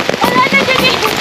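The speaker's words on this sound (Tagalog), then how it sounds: "Ulan kay mga kabro." Brief burst of rain pattering loudly close by, with voices and chatter mixed in over the falling drops.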